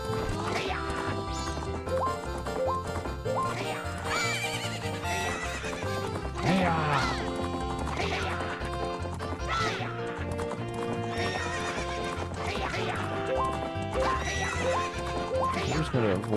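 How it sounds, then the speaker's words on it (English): Horses gallop and whinny through a race in the video game Majora's Mask, their hoofbeats loud and continuous over busy game music for the whole stretch. "Getting clipped by the horses and being sent in different directions."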